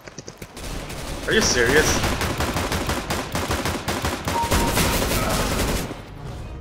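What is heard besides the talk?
shotgun fire in a video game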